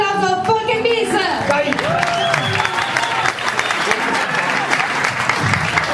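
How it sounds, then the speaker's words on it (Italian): A folk festival crowd bursts into loud, dense applause mixed with cheering, shouts and whistles, sustained throughout at close range. "fate un bel applauso, Folk & Beats!"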